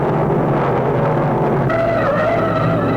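Vintage 1960s stock cars roar around an oval track as number 13, a Chevy, spins on the backstretch, loud continuous engine noise with a rising tire whine partway through, no talk.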